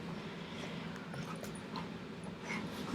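Hyper dogs give faint whimpers and short yips indoors, scattered and fairly distant over a low background hum.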